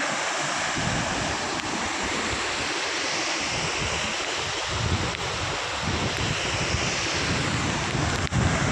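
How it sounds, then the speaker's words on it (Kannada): Overflowing water pours and rushes in a continuous loud roar, a small cascade close by in light rain, with wind buffeting the microphone. "ಓವರ್ಫ್ಲೋ ಆಗಿರೋ ನೀರು ಬಂದು ಇಲ್ಲಿ ಕೆಳಗಡೆ ಬಿಟ್ಕೊಂಡು ಜಲಪಾತ ಆಗಿ ಹರ್ಕೊಂಡು ಹೋಗ್ತಾ ಇದೆ"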